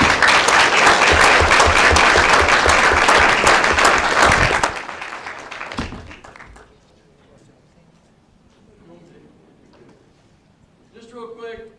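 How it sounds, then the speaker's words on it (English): Audience applause at a school board meeting fills the first few seconds with loud, dense clapping, then fades out, leaving a quieter room with faint movement and some talk near the end. "Round of applause."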